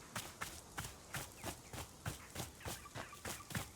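A goose waddles in a rhythmic dance emote in the video game Wanderstop, with about a dozen evenly spaced soft thumping, honk-tinged steps in a steady bouncing beat, close and moderately quiet with no talk.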